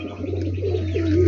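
Pigeons cooing close by in a Filipino backyard loft, a low steady rolling coo running throughout over a constant hum, with no talking.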